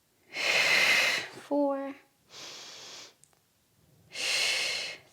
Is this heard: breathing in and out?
yes